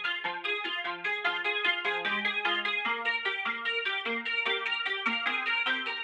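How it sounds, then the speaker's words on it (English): A plain guitar preset from the Serum synth, dry with no effects, plucks a steady melodic pattern of bright, harmonically rich notes over a low bass line, continuous and close for six seconds. "This is just a guitar preset from Serum,"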